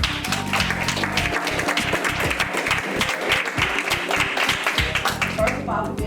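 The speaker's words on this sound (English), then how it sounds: "I'm going to applaud Diane Martin." Audience applause at a stage play event for the author, a dense wash of clapping that runs through the whole stretch, with low voices and music-like tones underneath.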